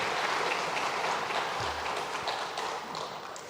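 A church congregation applauds together in a steady, dense wash of clapping that holds at an even level before easing slightly near the end.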